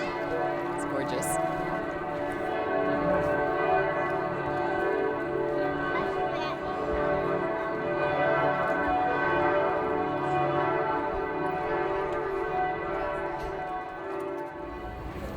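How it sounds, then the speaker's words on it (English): Church bells ring out at noon in a German town, a sustained wash of overlapping metallic tolls with a long shimmering hum, loud and continuous, while voices murmur faintly beneath. "The bells are gorgeous. It's about to be noon. And they've been going off for over a minute now."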